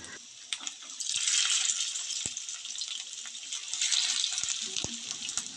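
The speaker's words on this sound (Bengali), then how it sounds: "চুলার আঁচটা কিন্তু মাঝারি হিটে রেখে মাছগুলোকে ভেজে নিতে হবে।" Spiced rohu fish pieces frying in hot oil in a pan over medium heat: a bright, steady sizzle that swells loudly, dips and swells again, with occasional sharp pops and crackles.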